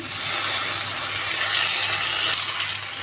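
Washed drumstick leaves land in a hot pan and fry with a steady, bright sizzling hiss that stays fairly loud and even throughout.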